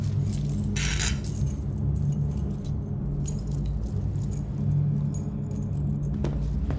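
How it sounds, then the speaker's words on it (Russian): Keys jangle in bursts over a steady low engine hum, close by and fairly loud, with no one speaking. "Дай мне ключи."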